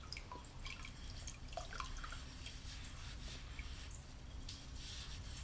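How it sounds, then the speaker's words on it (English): Water drips and splashes faintly as a handmade porcelain pottery rib is rinsed, with scattered small drips and soft rubbing over a quiet background. "wash it off so you can see how it's put together. Wash it a little bit."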